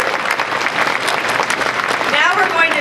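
Audience applause at the inauguration of Nevada Governor Steve Sisolak, a dense, steady round of clapping from a large crowd filling the whole stretch, with some cheering rising near the end.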